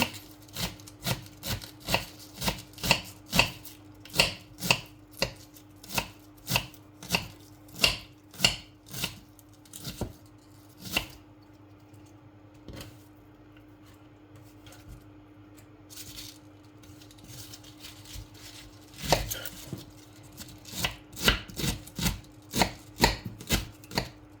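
Knife shredding cabbage for a salad on a cutting board, steady rhythmic chopping strokes close by, pausing for several seconds midway before resuming at a quick pace.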